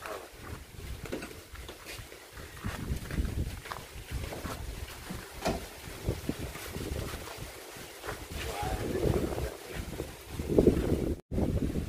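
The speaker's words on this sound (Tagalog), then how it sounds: "nagsisimula na po ang malakas na hangin" Strong typhoon wind buffets the microphone in rough, gusting rumbles, loud and constant with occasional rustling.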